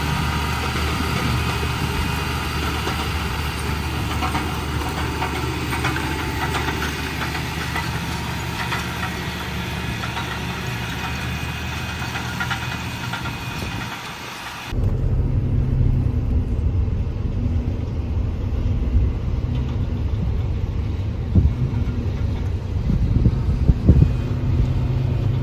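A tractor engine runs steadily while planting corn in dusty fields, a continuous mechanical drone with low rumble; partway through the tone shifts to a deeper, heavier low-end growl as if closer or under more load.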